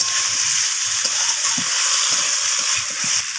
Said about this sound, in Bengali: তো সব কিছুকে ভালোভাবে কষিয়ে নিচ্ছি আমি।